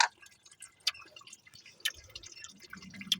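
Sludgy, sweet-smelling coolant dripping out of an engine block, heard as faint, irregular ticking drips and small splashes with quiet background noise.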